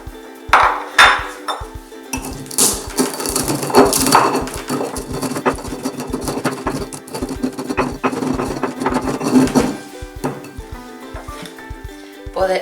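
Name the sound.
spices being ground in a stone molcajete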